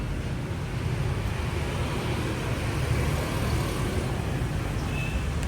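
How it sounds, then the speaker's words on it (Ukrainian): Street traffic on a busy central street in Vietnam, with motorbikes and cars making a continuous, even roar of engines and road noise, heard from a moderate distance with no talking. "Шум, байки, машини яка в них їзда."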